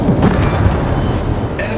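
A heavy explosion as an enemy cruiser is destroyed in World of Warships: a loud, low booming rumble that swells at once and rolls on for about two seconds, with no voices.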